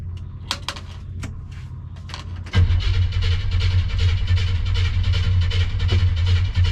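A 1957 car with FiTech fuel injection, heard first as clicks and clatter, then an engine that catches abruptly and runs rough and loud for several seconds close by.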